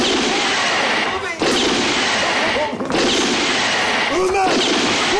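Loud bursts of gunfire crack in a dense, chaotic din, with two brief lulls between sustained volleys.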